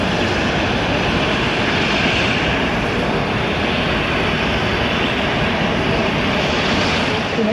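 A Singapore Airlines Airbus A380 jet takes off at Zurich airport, its engines a loud, close, continuous roar that holds steady from start to finish with no talking.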